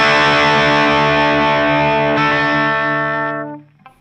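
A distorted electric guitar plays a sustained, heavily effected chord from the chorus of a song, ringing loud and close for about three seconds before being cut off and fading, with a faint click at the end.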